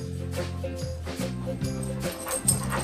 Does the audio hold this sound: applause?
no